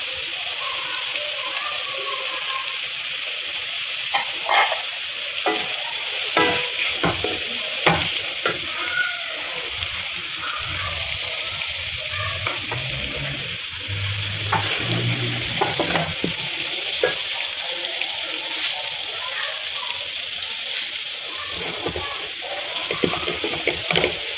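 Chicken stir-fries in a hot pan for restaurant-style Chinese biryani, with a continuous loud sizzle and repeated scraping and stirring strokes throughout.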